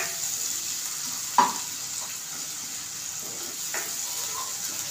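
Spice paste frying in oil on a high flame, a soft continuous sizzle with a couple of brief scraping taps of stirring, fairly quiet and close, with no voices.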